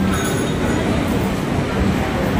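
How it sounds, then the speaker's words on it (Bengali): The Brahmaputra Mail pulls away from Sultanganj station platform at night, a loud, steady rumble of wheels and carriages that fills the whole stretch without a break. "ট্রেন স্টেশন থেকে এই প্ল্যাটফর্ম থেকে খুব দ্রুত গতিতে ছেড়ে দিল"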